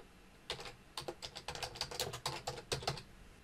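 Rapid, uneven clatter of keys being typed on a computer keyboard, close up, in short bursts with brief pauses and no talking.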